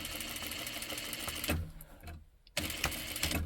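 A sewing machine stitches a bag strap in steady mechanical bursts, running close and loud, briefly pausing near the middle before starting again.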